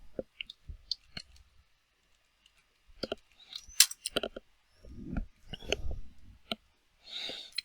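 Sparse, faint clicks and taps come from a computer keyboard and mouse as a password is entered, scattered irregularly through an otherwise quiet room.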